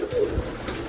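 Rajshahi pigeon giving a brief low coo, one short throaty burst close by in a quiet loft, lasting under a second.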